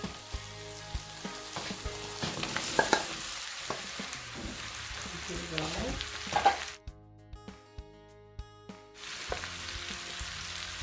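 Zucchini fries in a pan with a soft, continuous sizzle and occasional stirring taps, the sound dropping out briefly near the end before the frying resumes.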